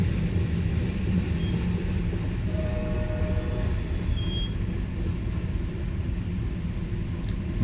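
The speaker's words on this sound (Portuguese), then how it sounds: "Muita carga sendo transportada pelos trens." Freight trains passing on a railway, a continuous loud low rumble of rolling wagons and wheels, with faint thin squeals and tones drifting above, steady throughout.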